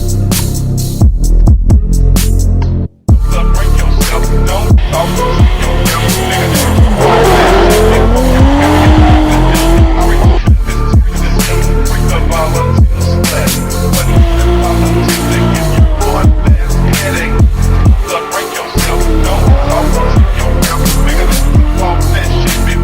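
Drift cars at a French drift championship round at Croix-en-Ternois circuit, with loud sustained tire squeal and skidding over revving engines, close and continuous, pitch sweeping as cars slide through corners, with one brief dropout near the start.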